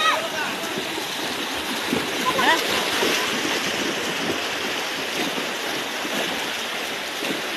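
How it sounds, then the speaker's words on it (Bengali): Floodwater pours across a road in Nalitabari, Sherpur, a constant loud rushing wash with splashes, near and continuous, with a person talking briefly over it. "পানির আওয়াজ।"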